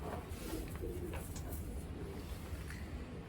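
Young racing pigeons cooing in a loft, soft repeated coos and rustling close by over a steady background hum, no talk.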